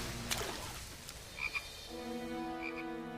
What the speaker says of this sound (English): The frog isn't hurt.